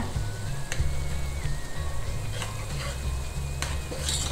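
Tamil kuzhambu being stirred in a pot over a steady sizzle, with occasional scraping clinks of a utensil against metal, close by.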